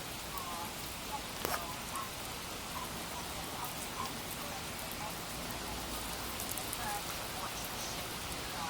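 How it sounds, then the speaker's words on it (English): Rain falls steadily at Langley Park School for Boys, an even, dense outdoor patter with scattered nearby drips and a single sharp tap. "Just look at the raining. Sometimes it gets really fast, or sometimes it gets quite slow."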